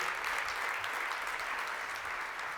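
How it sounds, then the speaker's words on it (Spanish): A church congregation applauds during a Spanish-language service, a steady, dense wash of clapping that fills the space without pause, with no speech over it. "le da ese aplauso"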